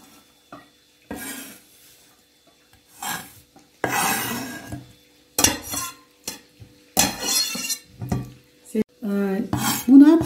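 Finely chopped onion is scraped and tipped from a board into a bowl in a home kitchen. Scattered bursts of scraping, rattling and clinking come in irregular clusters, with occasional brief speech.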